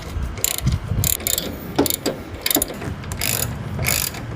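A ratchet wrench clicks in quick bursts while tightening steering box bolts on a Jeep Cherokee, with close, loud, repeated metallic ratcheting strokes and brief pauses between them.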